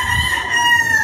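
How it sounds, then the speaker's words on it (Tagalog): Chickens in a backyard in Cavite, Philippines, with a rooster crowing in one steady, loud call against low farmyard background noise. "Ingay ng manok."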